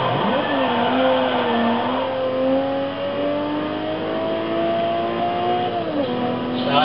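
A Nissan Skyline R32 GT-R V-Spec with a 2.6-litre twin-turbo engine pulls hard through the revs, its steady rising drone dipping briefly before climbing again, loud and close with no voices.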